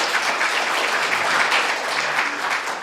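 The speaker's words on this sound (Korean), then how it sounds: "박수 한번 받아주시기 바랍니다." Audience applause at a Korean book launch lecture event, sustained dense clapping filling the hall evenly from start to finish, with no voices over it.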